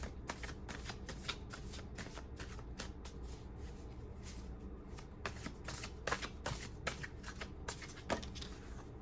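Tarot cards shuffled by hand in a steady run of crisp riffling flicks and soft slides, close and fairly quiet, continuing throughout with no voices.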